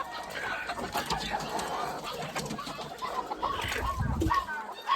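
Native village chickens on a farm in Shahapur cluck and call around the listener amid a busy background of fowl noise, with a person talking over them at times.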